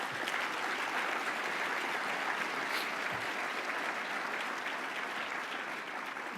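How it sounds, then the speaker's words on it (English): An audience applauds during the Long Beach mayor's speech, a continuous, thick roar of many hands clapping at a steady loudness throughout, without talk over it. "Let's give that system a round of applause."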